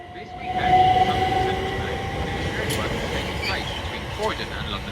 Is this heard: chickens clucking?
no